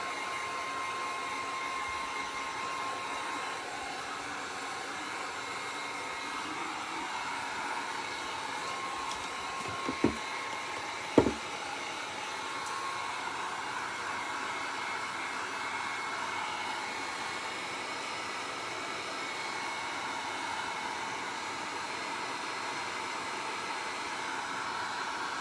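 A handheld hair dryer blows steadily on painted ceramic toy truck, a continuous close whoosh lasting throughout, with two brief clicks or knocks near the middle.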